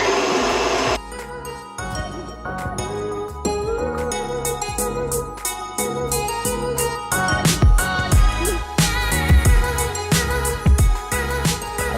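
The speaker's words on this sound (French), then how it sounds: "Donc c'est ça en fait mon sèche-cheveux professionnel." A stand mixer whips a raspberry macaron mousseline while a professional hair dryer blows to warm the metal bowl, giving a steady whir and airy roar under clattering, rhythmic beater knocks that grow busier and louder toward the end.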